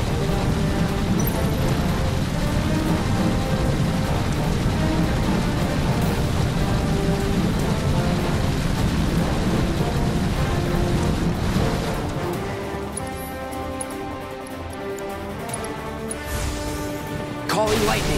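A lightning attack in Final Fantasy 7 Remake during the Valkyrie boss fight brings a dense, steady rain-like hiss with rumbling thunder, loud through most of the stretch and then thinning as battle music and effects take over.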